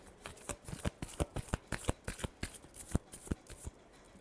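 Tarot cards are shuffled by hand in quick, crisp riffling bursts that repeat steadily, close and soft, with no voices.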